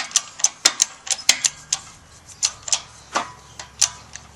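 Hydraulic jack pumped by hand to press a U-joint cap out of a Jeep Wrangler YJ rear drive shaft, a close run of sharp metallic clicks in a steady rhythm, about three per second.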